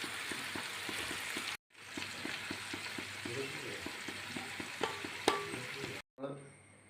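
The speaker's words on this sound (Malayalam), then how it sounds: "നമുക്ക് മൊത്തം ഒന്ന് ഇതുപോലെ ഒന്ന് ഫ്രൈ ആക്കി എടുക്കാം" Pieces of fish for pickle fry in hot oil with a constant crackling sizzle and regular light scraping strokes of a spatula, broken by two short silent cuts.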